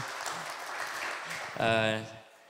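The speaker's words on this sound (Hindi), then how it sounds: "कितनी ताली बजा के उनको स्वागत करते हैं।" A Hindi church congregation claps to welcome guests at a Sunday service. The clapping is a fairly soft, continuous patter, and a voice speaks over its end as it fades.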